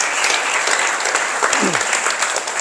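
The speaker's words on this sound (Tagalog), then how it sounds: "Palakpak!" Church congregation applause, a loud burst of clapping close by, with a brief voice rising over the middle.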